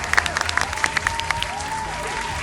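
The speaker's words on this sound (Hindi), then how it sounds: "तालियां इनके लिए।" TV studio audience on a game show claps in a dense burst of applause with a few sharper individual claps, as a voice speaks over it.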